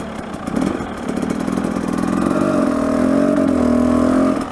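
A 2018 carbureted KTM TE300 two-stroke dirt bike idles while warming up, a steady close buzzing drone that swells slightly and holds at a higher, even pitch toward the end.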